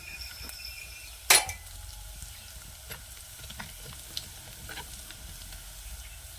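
Chili pieces and turmeric frying in a pan over a village clay stove, a soft continuous sizzle with one sharp metallic scrape of a spoon and faint stirring taps.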